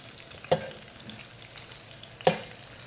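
Pork carnitas pieces browning in a pan give a low, steady sizzle, broken by two sharp spatter pops, with no talk.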